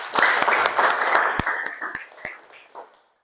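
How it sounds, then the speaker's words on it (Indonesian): Classroom audience of students applauding together, a burst of dense clapping that tapers off over about three seconds. "Ya, berikan aplaus."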